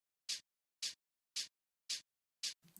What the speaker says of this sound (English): Then we've got another shaker just on every other beat.